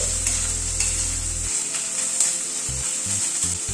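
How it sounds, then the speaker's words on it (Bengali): Chopped ginger, garlic and green chilli sizzle steadily with onion in hot oil while being stirred in a pan for a potato dopiaza. The frying is close and continuous, with a low intermittent hum underneath. "এবার আদা রসুন কাঁচা লঙ্কা এটাকেও পেঁয়াজের সাথে মিশিয়ে আবার একটু ভেজে নেব।"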